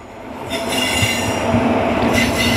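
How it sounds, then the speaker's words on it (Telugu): A Tirupati to Karimnagar train rolls into platform 1 at Karimnagar station, diverting off the main track. Its steady rumble is close and loud, with wheel squeal rising in bursts. "Tirupati to Karimnagar entering into platform number 1"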